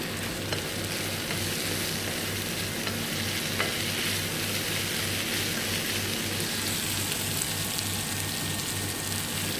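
Meat, garlic, spices, peppers and tomatoes fry and get stirred together in a pan, giving a steady close sizzle with faint scraping and no talking throughout.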